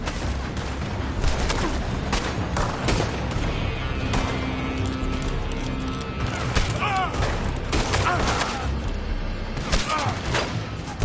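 Gunfire rattles through a Red Dead Redemption 2 shootout, with bursts of shots and booms cracking repeatedly over a dense, noisy backdrop of game sound.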